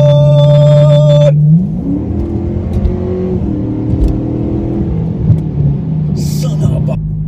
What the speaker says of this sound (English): You hear that Corsa cold air intake. This thing sounds like a damn supercharger.